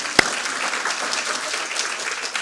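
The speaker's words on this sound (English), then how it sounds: "how about a big round of applause for the Steering Committee" An audience at a patient advocacy summit applauds the steering committee, a steady wash of many hands clapping at close range from start to finish, with one sharp clap near the beginning.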